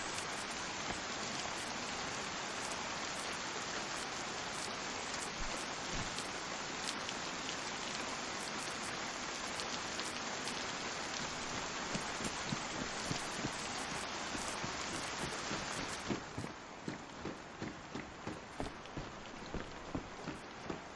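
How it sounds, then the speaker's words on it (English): Steady, dense rainfall hissing continuously in the video game DayZ, with scattered drips and taps becoming more distinct near the end. "Rain effects are better, aren't they? This rain looks better."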